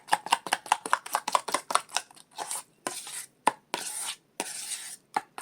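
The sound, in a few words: stirring aloe vera gel into night cream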